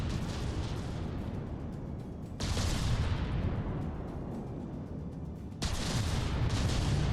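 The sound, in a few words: battleship shell bouncing off armor in From the Depths video game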